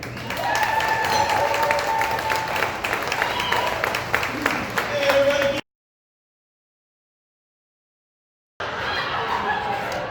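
Comedy club audience in Bismarck, North Dakota applauding a comedian's arrival, steady broadband clapping with cheers and a whistle, loud and close, cut by about three seconds of silence before the clapping resumes.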